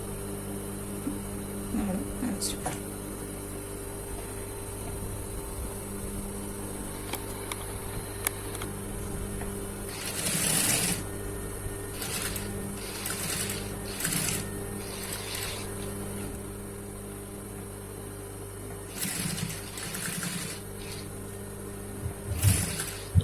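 A sewing machine stitches small V-shaped stitches on a hook-and-eye strip in short mechanical whirring bursts, separated by pauses with faint ticks over a constant electrical hum.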